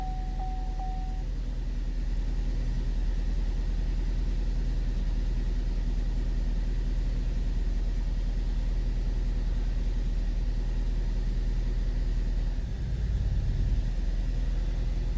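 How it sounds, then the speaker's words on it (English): A Vauxhall Astra J 1.6 petrol engine idles steadily nearby with a constant low drone and slight unevenness, the car carrying a P0300 misfire fault code with the engine management light flashing. "So I've just started the engine."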